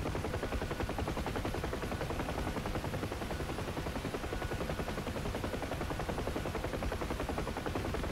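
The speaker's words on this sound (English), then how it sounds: "That has to be shells coming off the destroyer." Rapid, continuous heavy shelling from a destroyer firing on tankers in DCS World, a dense, steady pounding barrage heard over the constant drone of a UH-1H Huey helicopter, with no talking.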